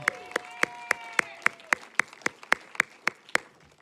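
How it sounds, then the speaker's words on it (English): Applause from a crowd at a graduation ceremony, with sharp, evenly spaced claps standing out, steady and fairly close, with faint voices underneath. "Each and every one deserves your applause, right to the end."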